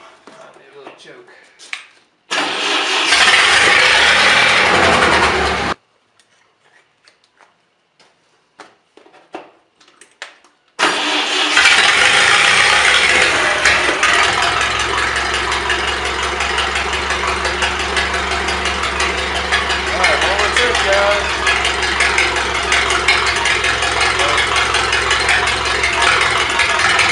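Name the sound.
Miller Big 40 welder generator engine starting and running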